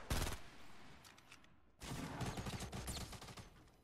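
Gunfire in Fortnite Battle Royale on Xbox One: a sharp burst of shots, a short lull, then a sustained rapid volley of loud, close game gunshots.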